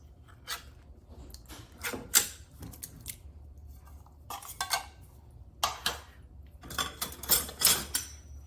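An 8-ounce can of crushed pineapple being opened: a run of sharp metallic clicks and scrapes, irregular and close, with brief pauses between bursts.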